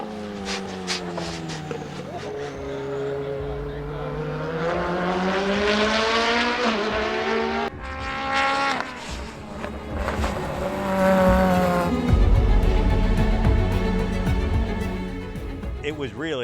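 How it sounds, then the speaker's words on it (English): The Subaru Project Midnight race car drives hard, its engine note rising and dropping through repeated acceleration runs with shifting pitch and occasional tire noise, loud and close, while people talk over parts of it. "I'm driving the Subaru Project Midnight car."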